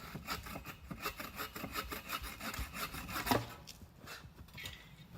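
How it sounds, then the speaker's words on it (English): Rhythmic rasping strokes of a hand saw cutting through wood at a winter campout, close and steady, slowing and fading toward the end. "this is sawing"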